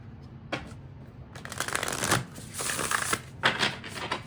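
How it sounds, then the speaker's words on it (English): Oracle cards riffle and slap together in a few brisk shuffling bursts, close and fairly soft, with brief pauses between. "I'm hearing I need to shuffle twice."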